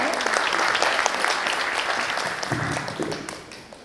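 Audience applause at a conference on AI-era design strategy, sustained dense clapping from a crowd that holds steady and then fades at the end.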